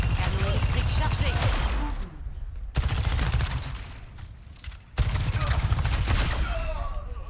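The electric cannon in Overwatch 2 fires as a dense, rapid barrage of loud blasts over a booming low rumble. The barrage cuts out sharply twice and resumes each time. A voice talks over it throughout.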